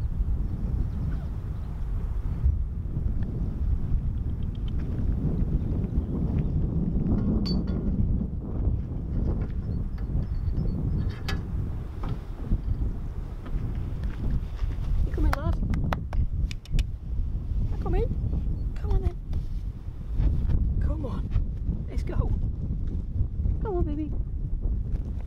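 Steady gusty wind rumbles across the microphone on a narrowboat on a Lancashire canal, with a person talking over it and a few clattering knocks toward the end.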